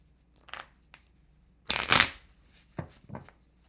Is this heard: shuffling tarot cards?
yes